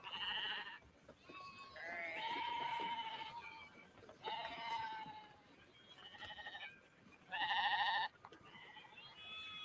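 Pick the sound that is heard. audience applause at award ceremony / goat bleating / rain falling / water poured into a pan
goat bleating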